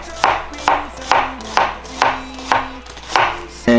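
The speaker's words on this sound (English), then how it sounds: "for the onion, we're gonna thinly slice the onions as we usually do" A knife thinly slices onions on a cutting board for kimchi pancakes, giving seven crisp, evenly spaced chops close up with nothing else around them.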